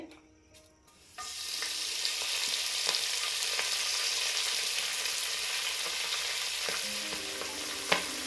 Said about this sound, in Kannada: ಇವಾಗ ನಾನು ಕಟ್ ಮಾಡಿರೋ ಅಂಥ ಮೆಂತ್ಯ ಸೊಪ್ಪನ್ನ ಸೇರಿಸ್ತಾ ಇದ್ದೀನಿ ಇದಕ್ಕೆ